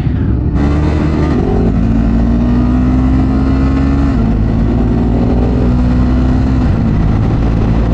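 A Triumph Scrambler 400X motorcycle engine runs loud and steady while riding around Mindoro, its drone holding close and constant with the pitch easing and shifting as the revs change.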